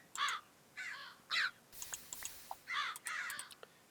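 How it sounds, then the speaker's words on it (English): Several loud, harsh crow-like caws from birds in a Minecraft modpack game, arriving in short separate calls with brief gaps and a few faint clicks between them. "loud obnoxious birds"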